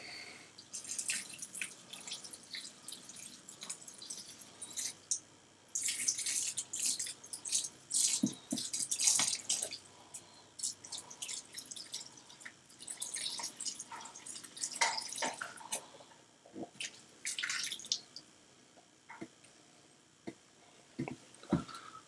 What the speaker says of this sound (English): I'm going to add a little bit of aquarium water.